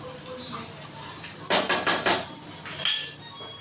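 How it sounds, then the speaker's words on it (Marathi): A spoon scrapes and clatters against a pan while sandge, sun-dried lentil dumplings, are stirred and sautéed, giving a few sharp metallic knocks in quick succession over a quiet kitchen background, with no one talking. "चांगलं असं परतून घ्यायचं आहे हे भाजलेलंच आहे पण थोडंसं चांगलं परतून घ्यायचं आहे"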